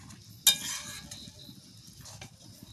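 Carrot halwa being stirred in a pan with a spoon: a sharp scrape near the start and another later, over a faint steady sizzle with soft clinks.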